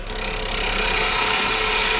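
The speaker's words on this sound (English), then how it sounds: "are you using a spindle gouge?" A spindle gouge cuts wood on a lathe, giving a loud, steady, close rasping scrape that holds without a break for about two seconds, with no voices.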